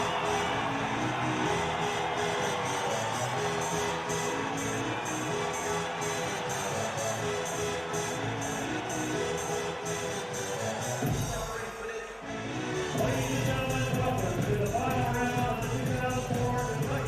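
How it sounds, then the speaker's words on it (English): A large crowd roars and cheers continuously at a state wrestling championship match, a dense, sustained wash of voices with a brief dip partway through before the noise swells again. "Listen to the crowd."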